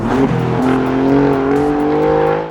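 Alfa Romeo Giulia GTAm engine revving as it downshifts, a loud, close throaty roar that climbs in pitch and holds a strong sustained drone with a slight crackle at the top.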